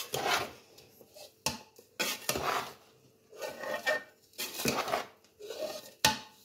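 Flaxseed pinni mixture is stirred and scraped in a bowl, giving intermittent rubbing, clinking strokes in irregular bursts with short quiet gaps, fairly close and soft.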